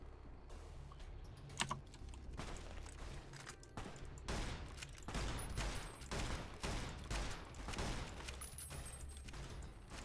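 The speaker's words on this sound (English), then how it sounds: "let's do the cowboy repeater. I like that gun a lot." Rapid repeated cowboy repeater rifle shots in the Fallout New Vegas video game, sharp cracks firing in a dense, steady volley at moderate loudness across the whole stretch.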